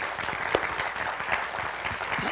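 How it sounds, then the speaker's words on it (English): An audience at a school parenting talk gives a round of applause, dense steady clapping from a crowd that holds at an even level throughout. "Can we give them one more round of applause"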